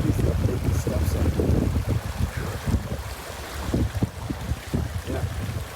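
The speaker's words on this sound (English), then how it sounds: "Super nice stream right here." A rushing mountain stream in the High Sierra near Forrester Pass, its steady broadband wash heard close and fairly loud, buffeted by gusty wind noise on the microphone with low thumps throughout.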